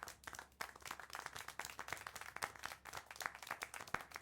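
Steady hand clapping in the Syberia: The World Before video game, a run of quick sharp claps at an even, slightly uneven pace, fairly faint and with no talking.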